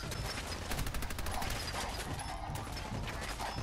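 Sustained machine gun fire in Fallout 4 rattles in a fast, dense stream of shots, loud and close, with mechanical clatter running throughout.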